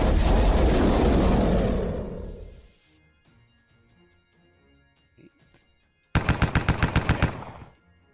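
Lock and Load Tactical, a tactical war video game, opens with a loud roaring rocket blast that fades away, then falls quiet with faint clicks before a sharp rapid burst of machine-gun fire.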